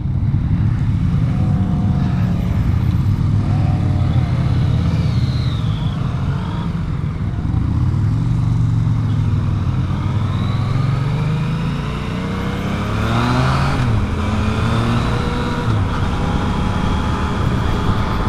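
A Yamaha FZ-09 (MT-09) motorcycle engine rumbles steadily, its pitch rising and falling in repeated revs over a continuous low drone, with no talking.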